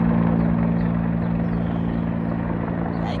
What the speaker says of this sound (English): The helicopter has been outside for about 10 minutes